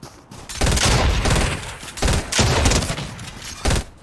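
Gunfire from the player's weapon in Fortnite comes in several loud, spaced bursts of rapid shots, close and dominant, with no talking over it.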